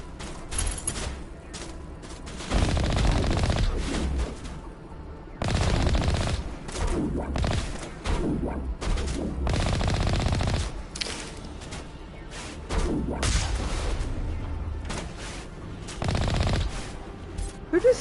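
Bursts of automatic gunfire in the video game Mass Effect 1, with long rattling volleys aimed at a tank that start and stop repeatedly over a steady game background.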